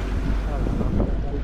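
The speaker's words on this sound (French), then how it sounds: "C'est du vent qui nous vient dans le dos" Wind blows over a sailboat at sea in mid-ocean, a loud steady rushing and buffeting against the microphone with low rumble throughout.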